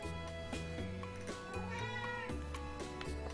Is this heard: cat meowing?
yes